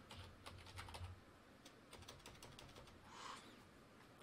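Typing a password on a computer keyboard: a quick, irregular run of close key clicks, steady and moderately quiet, with no talking.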